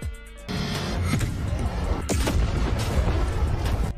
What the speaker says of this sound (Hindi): और यहाँ एक बहुत बड़ा धमाका होता है।